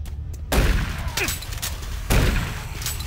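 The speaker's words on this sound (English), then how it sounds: "Warning. Automated turret guns online." Automated turret guns in Doom 3 open up in two loud, sudden bursts of heavy gunfire, each a sharp crack followed by a rumbling decay, separated by a short lull.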